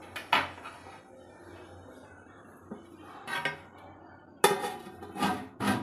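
A metal lid clinks onto a pot of Andhra-style fish curry, with several sharp clatters of cookware and a few softer knocks separated by quiet gaps in a home kitchen.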